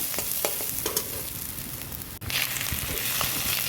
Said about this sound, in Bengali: এবারে আমি মাছের তেলটা দিয়ে দেব।